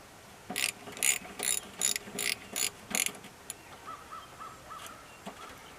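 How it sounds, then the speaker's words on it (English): A 13 mm ratchet wrench clicks in about eight quick, crisp bursts on a radiator bracket nut of a 1992 Ford 3930 4x4 shuttle shift tractor, followed by faint distant bird calls. "So I gotta get me a 13 wrench"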